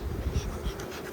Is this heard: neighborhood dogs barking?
no